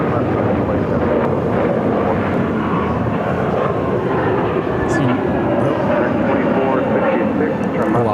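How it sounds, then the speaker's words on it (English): A United Airbus A321neo jet takes off from runway 7 left at Phoenix airport, a loud, steady engine roar that fills the whole stretch and stays strong throughout. "It's a United A321neo taking off 7 left."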